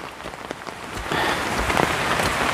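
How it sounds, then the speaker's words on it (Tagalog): Heavy rain pours down in a forest during a storm, a dense hiss of drops on surfaces that grows noticeably louder about a second in, with no talk. "Ay, lumakas na naman ang ulan."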